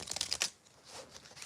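A deck of cards is shuffled quickly up close: a rapid riffle of soft flicks, followed by quieter card rustles, all faint.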